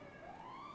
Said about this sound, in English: Flip on the double siren and you turn on the siren